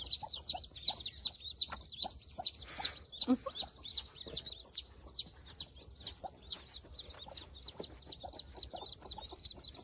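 Newly hatched chicks peep in a dense, continuous chorus, with occasional lower hen clucks underneath, close by.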